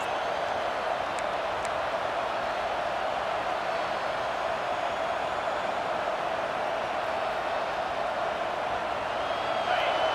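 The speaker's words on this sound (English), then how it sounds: "No fall off from the noise or intensity from this crowd" Dense, steady roar of a large stadium crowd in the video game NCAA Football 26, continuous and even, with a commentator's voice faintly under it.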